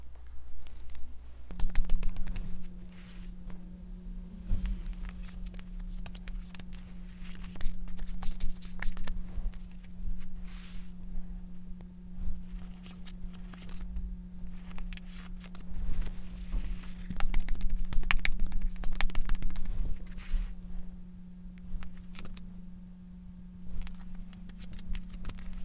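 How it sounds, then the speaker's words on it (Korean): Tarot cards are shuffled up close in a series of soft, irregular riffling and patting bursts that last about twenty-five seconds, with a steady low hum running underneath. "2번 뽑아주신 분들 그러면 셔플 먼저 시작해 볼게요"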